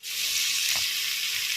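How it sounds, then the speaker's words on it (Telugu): Ivy gourd (dondakaya) frying in oil in a pan, a dense steady sizzle that starts abruptly and holds throughout, close and loud, with one soft stir or bump midway. "చూడండి, మన దొండకాయ ఫ్రై అవుతుంది కదా"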